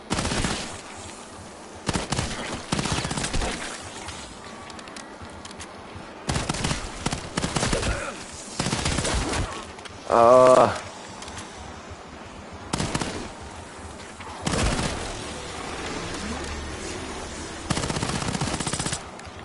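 Cap 40 (Coda 9) gun fired in the video game Ashes of the Damned: several rapid bursts of automatic fire with pauses between, loud and close, plus a brief ringing tone midway.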